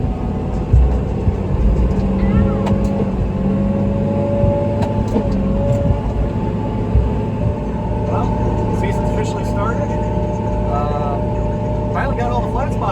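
A tractor pulling out onto the road during hay season, a steady loud low engine drone with brief shifts in pitch as gears change, while someone talks over it.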